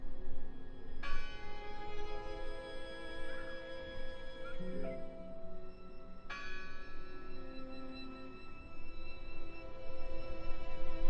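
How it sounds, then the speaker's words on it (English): Church bell tolling in the horror game Draugen, two heavy strikes a few seconds apart with long ringing decay, over a low ambient drone and no talk. "I heard the bell!"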